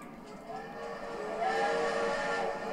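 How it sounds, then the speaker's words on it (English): A steam-style train whistle from the Roller Coaster Tycoon video game rises out of faint background and holds as a sustained, moderately loud hissing tone with no talk. "You don't have to blow your horn over everything."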